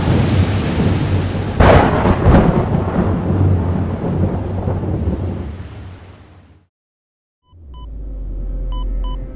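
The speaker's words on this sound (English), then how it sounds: "Barry, the thunderstorm riled us all up here, too" Loud rolling thunder with heavy rain in the video game SCP-303, a sharp crack early on, fading into silence before a low rumble and faint electronic beeps return.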